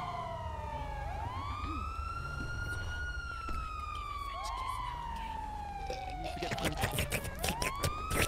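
Police sirens wail in the video game GTA V, rising and falling sweeps that overlap from more than one vehicle, fairly close and steady, with a low engine rumble beneath and a burst of clattering near the end.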